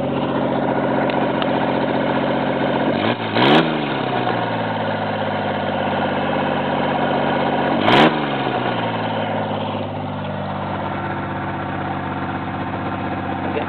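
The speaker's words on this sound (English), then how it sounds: "I idle up a little bit because it's got an automatic idle adjuster on it" A car engine idles steadily up close, a continuous low hum with a faint rattle and two brief sharp blips partway through; no one speaks.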